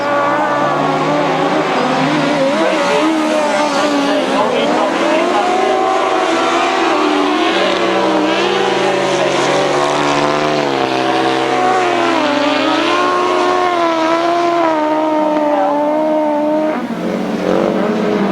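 Grasstrack racing sidecar outfits at a 1992 British Masters qualifier roar loudly past, engines revving with rising and falling pitch, a dense sustained snarl that fades slightly at the end.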